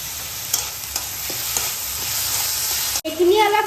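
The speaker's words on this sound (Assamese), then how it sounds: "এইখিনি অলপ মই ভাজি ল'ম অলপ গোটেইখিনি ভাজি ল'লোঁ এতিয়া মই দিম বিলাহী" Chopped tomatoes sizzle and fry in a pan for paneer ghotala while a utensil stirs them in several scrapes, loud and close. A short break near the end gives way to brief voice.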